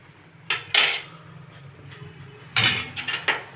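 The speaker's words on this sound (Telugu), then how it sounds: "మనం ఈ పోపును అయితే వేసేసుకుందాం" Fried tempering is tipped into Telugu buttermilk rasam (majjiga charu) in a home kitchen, bringing two short bursts of metal utensils clinking and scraping against the pot, close and fairly loud over a quiet background hum.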